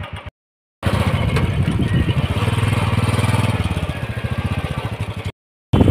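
A Bullet motorcycle ridden through city streets in Vadodara, its engine chugging in a steady, evenly spaced thump that swells and eases, framed by short silent gaps at the start and end.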